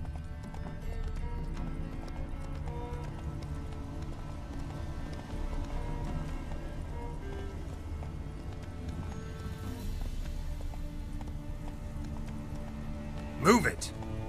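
Roach, a horse in The Witcher 3: Wild Hunt, gallops with steady rapid hoofbeats under continuous game music and a rider's voice, ending in a brief sharp whinny-like burst near the close.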